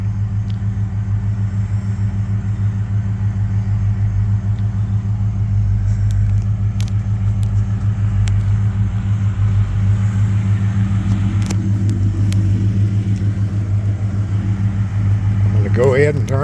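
A rebuilt AMC 401 V8 in a 1987 Jeep Grand Wagoneer idles steadily, a low, even engine rumble that holds close and constant throughout, with faint background sounds over it.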